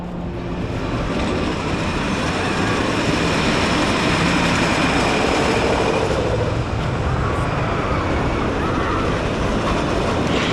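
A ride train at the Parc Astérix amusement park, on a cold winter day, runs along its rails with a steady, loud rumbling roar that holds throughout, with faint voices in the background.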